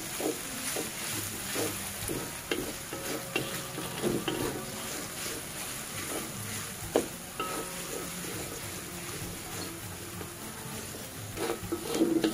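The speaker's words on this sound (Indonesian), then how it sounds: "Tumis sehingga cili kering kisar masak sepenuhnya." Ground dried chili paste stir-fried in a pan for a spicy clam dish makes a continuous moderate sizzle, with scraping stirs and occasional utensil knocks and no talking.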